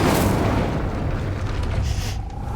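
A fire spell cast in the Hogwarts Legacy video game erupts as a loud, sustained roaring blast that holds steady for a few seconds and thins slightly toward the end.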